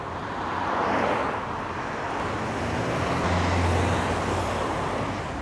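Congested road traffic in Istanbul, a continuous wash of passing cars and heavier vehicles at moderate distance, with a low engine drone swelling briefly near the end and no voices.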